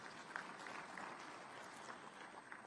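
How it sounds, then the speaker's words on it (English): An audience at a conference on digital trade applauds, a dense patter of clapping heard faintly from a distance with no one speaking over it. "I think you can give yourself a round of applause."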